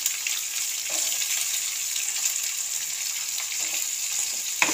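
Chopped vegetables, beans among them, hitting hot oil in a frying pan with turmeric, giving a steady, even hiss of frying that holds throughout, with a few faint clinks near the end.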